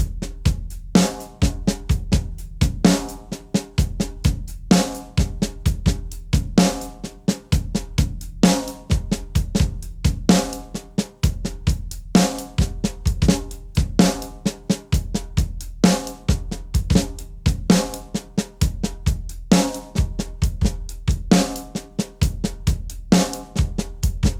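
A drum kit plays a paradiddle groove in 13/16, driven by bass drum, with crisp, evenly spaced strokes repeating in a tight, loud, close pattern for the full length, with no voices.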